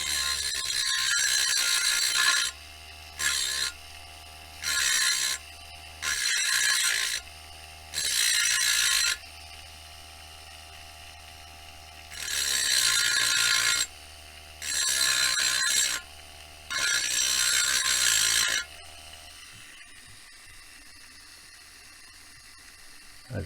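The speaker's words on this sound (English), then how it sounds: "Make sure you have a good grip on your Dremel before you go after grinding." A handheld Dremel rotary tool grinds a metal handrail stanchion support for a Lionel model train, whining in repeated steady bursts of a few seconds each, separated by short pauses, loud and close throughout.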